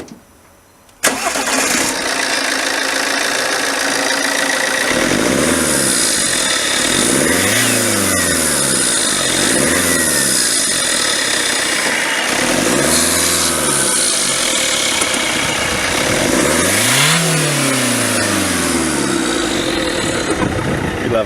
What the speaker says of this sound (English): It is a diesel, so it's going to sound like a tractor